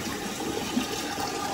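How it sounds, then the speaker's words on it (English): Water rushes steadily from a toilet flush just after its syphon was replaced, a continuous fairly faint gushing with no talk over it. "All right, so we're ready for a flush now."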